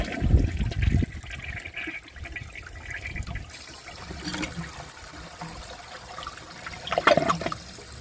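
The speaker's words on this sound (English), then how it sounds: "I'm going to empty the rest of the water out of the tank." Water drains and trickles out of a 1995 Procemex toilet tank being emptied after a clog, a steady pouring dribble with a louder gurgling burst near the end, no talking.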